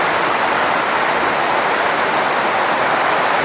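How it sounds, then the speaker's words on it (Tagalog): Heavy rain pours down in a dense, unbroken hiss that stays loud and steady the whole time, with no voices or other sounds on top of it. "sobrang lakas ng ulan guys"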